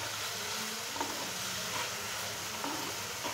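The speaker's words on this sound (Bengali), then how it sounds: "সুন্দর মতো মশলাটা কষিয়ে নেব যতক্ষণ না তেলটা ছেড়ে দেয়" Spice paste for chicken curry sizzling and frying in oil in a pan, a steady close crackle with occasional stirring scrapes throughout, no voices.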